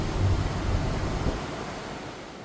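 Ocean water washes steadily beside a cruise ship at night, a soft continuous rushing surf with no voices.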